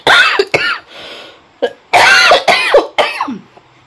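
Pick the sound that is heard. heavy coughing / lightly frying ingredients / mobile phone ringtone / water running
heavy coughing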